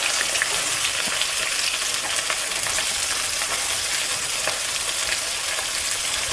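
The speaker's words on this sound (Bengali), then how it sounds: "পেঁয়াজটাকে এবার লাল লাল করে ভেজে নেব।" Onions fry in a hot pan for chicken curry, giving a loud, dense, continuous sizzle that stays even throughout with no talking.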